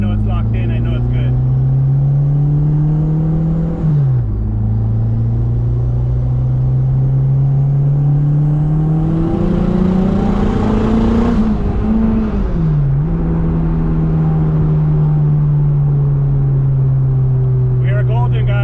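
An AWD car with a swapped rear axle drones steadily on a test drive, its engine note rising and dipping with shifts and throttle changes, a constant loud cabin rumble with road noise throughout.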